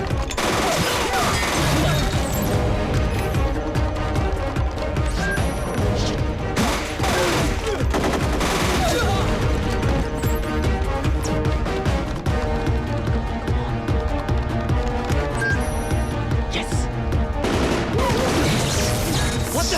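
A Bollywood action film shootout erupts in an office building during a security breach, with sustained loud bursts of gunfire and crashes layered over dense music and effects, nearly continuous throughout.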